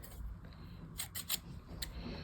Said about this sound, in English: So I'll use some scissors.